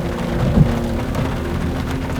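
Steady rain falls outdoors in eastern Iowa during deer season, with a low rumble of thunder rolling underneath for most of the stretch, alone with no voices.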